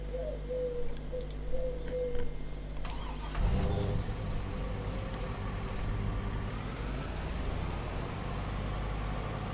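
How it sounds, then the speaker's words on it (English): A Land Rover in the Farming Simulator 25 game drives past as a steady engine drone, with a sudden louder surge of engine rumble partway through that carries on evenly to the end, with faint birdsong early on. "Might as well allow the Land Rover to overtake"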